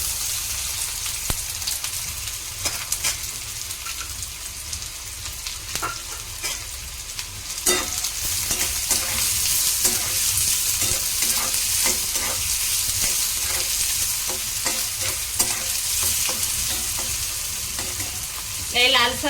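Chopped onion sizzles in hot oil in a pan, a steady dense hiss with occasional stirring scrapes throughout, close and loud, with no talking.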